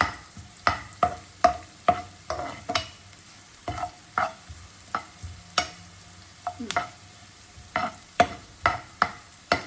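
Broccoli sautés in butter and garlic in a pan, and a spatula scrapes and taps in quick, irregular strokes over a quiet background sizzle.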